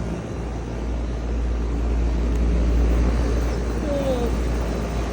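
A 2010 Lennox air conditioner on R-410A refrigerant runs close by, giving a steady, unbroken whirring hum over a low drone that holds at an even level throughout.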